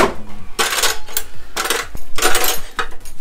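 Metal spoons, forks and other cutlery clatter and jingle in bursts as a cluttered home kitchen is tidied, loud and close, with rattling handfuls and brief pauses between.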